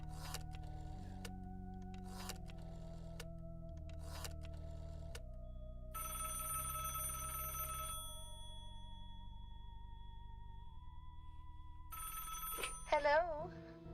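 Telephone ringing after a number is dialed, with several evenly spaced rings followed by a longer ring, clear and moderately close in a quiet room.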